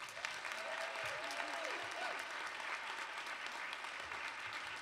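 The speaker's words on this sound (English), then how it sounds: "I would like to give a very large and loud round of applause for Sade." Audience applause at a United Nations International Women's Day celebration, a dense, steady wash of many hands clapping that fills the whole stretch at even loudness, with a faint voice briefly showing through early on.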